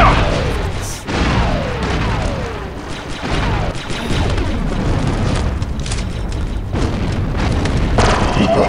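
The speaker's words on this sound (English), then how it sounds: "I like throwing grenades from these gravity well generators" Grenades bursting in Star Wars Republic Commando online team deathmatch come as a string of loud booming explosions with crashing debris, several heavy blasts following one another over continuous battle noise.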